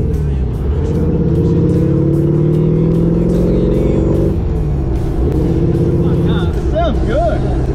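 Chevy 350 small-block V8 with a Holley carburettor and extractors, swapped into a Toyota Landcruiser, a loud close deep idle that rises and falls with revs, with people talking over it.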